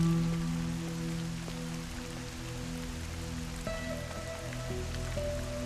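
Steady rain falls in a dense, even hiss, with occasional louder drops and faint tonal hum underneath, no voices present.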